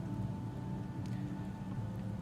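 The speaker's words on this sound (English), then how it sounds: "although it's still heavy raining outside" Heavy rain falling outside, a steady, dense wash of noise that stays loud and even throughout with no pauses and no talk over it.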